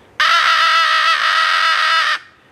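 A person's voice imitates a crow call, a single sustained, raspy caw with a vibrating throat growl made as a locator crow call, loud and close with nothing else around it.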